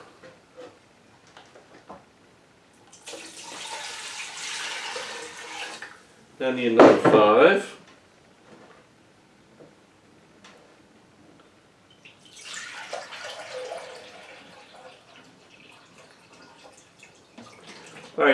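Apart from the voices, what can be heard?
water poured into a pot, cups of water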